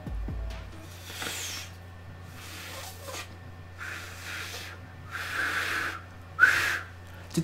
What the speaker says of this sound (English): That definitely sounded like a whistle to me.